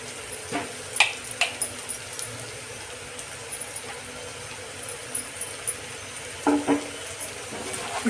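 Fried bitter gourd pieces tossed with peanut powder are stirred in a pan, giving soft scraping and clinks of a spoon against the metal over a quiet sizzle, with a few sharper knocks.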